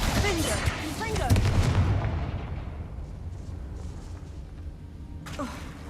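The Confringo explosive spell in Hogwarts Legacy sets off a loud, close blast with a rumbling, crackling tail that fades over several seconds, followed by a short whooshing hit, with a voice partly under it.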